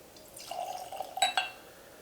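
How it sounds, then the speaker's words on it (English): A. Smith Bowman Cask Strength bourbon at 63.7% ABV pours into a glass in a short, quiet trickle, ending with a couple of faint clinks, with no talk. "Gonna pour it up in the gold."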